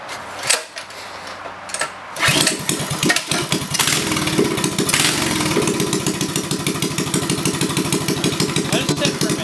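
The small engine of a mini bike, run with the choke on, sputters and catches, then runs steadily with a loud, close, rapid putter. Brief talk is heard just before it settles.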